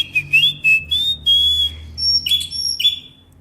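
Someone whistles up close at an aquarium to call the fish, in a series of short, bright, sliding notes with small pauses between them, ending in higher chirpy phrases. A low hum runs underneath.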